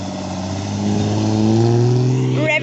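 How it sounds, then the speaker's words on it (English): A Triumph TR6 sports car revs its engine nearby, a loud, sustained rising drone swelling and holding before easing off, with a voice talking briefly over the end. "Revving away in the TR6 there"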